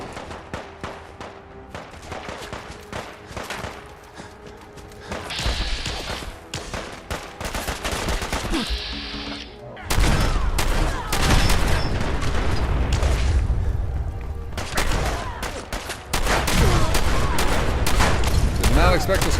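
Bursts of automatic gunfire from a squad of Gunners in Fallout 4 with the Sim Settlements 2 mod, dense rapid volleys and booming hits, getting louder and more continuous in the second half.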